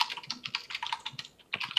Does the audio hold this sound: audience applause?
no